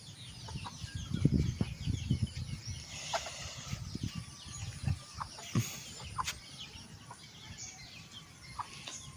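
Several chickens cluck and murmur outdoors near a pond at close range, with soft irregular calls and scratching over a light ambient background and no speech.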